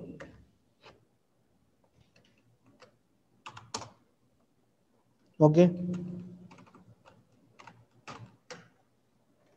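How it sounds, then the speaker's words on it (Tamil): Keys tapped on a computer keyboard in a small room, coming in short scattered bursts of clicks with a louder cluster midway, while a person talks briefly between them. "சும்மா பந்தி டைப் பண்ணிருக்கேன், அவ்வளவுதான்."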